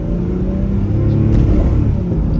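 A 1994 Jaguar XJS convertible with a 4.0-liter six-cylinder engine accelerating on a highway, a loud, steady, close rumble and drone of engine and road noise filling the moment without any talking.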